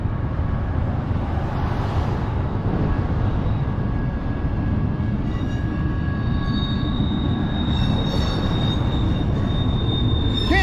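A freight train rolls past in Kingman, Arizona, its wheels squealing in long, steady high-pitched tones over a continuous loud rumble of rail cars, close by and without voices.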